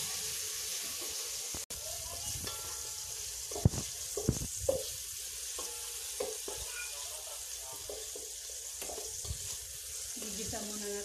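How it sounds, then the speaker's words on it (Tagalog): Beef and beef liver sautéing in a pan give a steady close sizzle, broken by scattered clinks and scraping stir sounds, with a few brief voices in the background. "Gigisa muna namin yung aming karne. Yan, yung atay. Atay ng baka."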